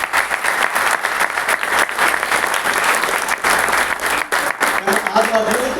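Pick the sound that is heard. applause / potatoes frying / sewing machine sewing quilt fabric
applause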